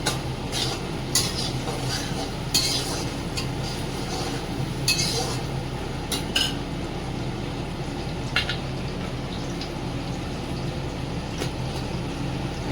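Chow mein stir-fried with onion, green chilli and garlic in a pan, the metal utensil clinking and scraping repeatedly against the cookware at an irregular rhythm over a steady background sizzle, heard close with no talking.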